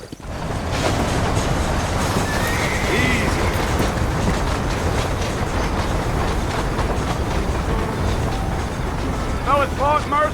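In the Red Dead Redemption video game, horse hooves clip-clop in a steady rapid rhythm under continuous rumbling movement noise, while people talk throughout.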